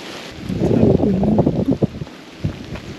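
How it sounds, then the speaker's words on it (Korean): Wind and rain buffet the microphone during a rainy hike along the Jindallae Ridge of Cheonggyesan mountain, with a steady gusty rush and scattered thumps of drops. No clear thunder is heard. "비가 오기 시작했고"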